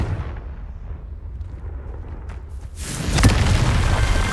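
A Confringo spell explosion in Hogwarts Legacy lands as a sudden loud boom after a low rumbling lull, then leaves a broad roaring burst that fills the rest of the moment.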